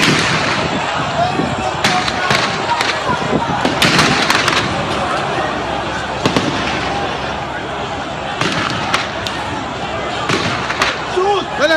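Sharp cracks and bangs of gunfire at the Lekki Toll Gate in Lagos, irregular and echoing over a noisy crowd, with people shouting and talking throughout.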